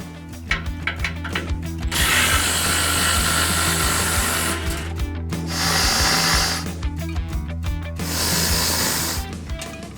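A power tool, likely an impact wrench, removing tow hooks from a Ford F-150 front bumper, with two or three loud sustained bursts between clicking ratchet sounds, close up and without talk.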